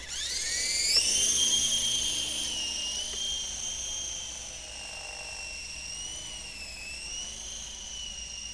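A cheap toy RC helicopter's small rotor spins up to a high, whining pitch and holds a steady buzzing drone with slight pitch wobbles, close by.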